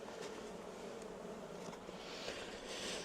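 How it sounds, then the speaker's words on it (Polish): A crowded honeybee hive hums with many bees buzzing at once, a faint, continuous close drone with no talking over it. "bo jest bardzo dużo pszczoły."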